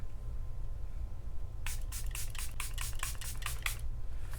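Makeup setting spray hisses from a pump bottle in a rapid series of about ten short spritzes, close and crisp over a low steady hum.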